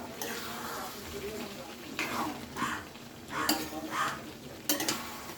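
Brinjal and potatoes with spices are stirred in a pan for an ilish fish dish, with a quiet sizzle under repeated scraping strokes of a utensil against the metal, coming in uneven bursts.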